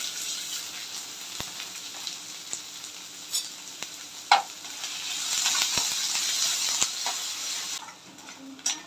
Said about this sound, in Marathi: कांदा छान ब्राउन होईपर्यंत याला परतायचा आहे